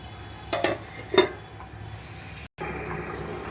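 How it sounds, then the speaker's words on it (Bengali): A lid goes onto a cooking pot during a home lunch preparation, with two sharp metallic clinks close up over a low steady background hum, followed by a brief cut. "এবার এটাকে আমি ঢাকা দিয়ে দেবো যাতে তাড়াতাড়ি করে সবগুলো সেদ্ধ হয়ে যায়"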